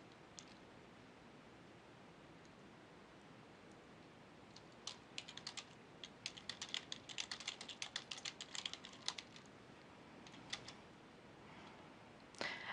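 Someone types a record into a Microsoft Access database on a computer keyboard. Faint, quick key clicks come in irregular bursts after a quiet start.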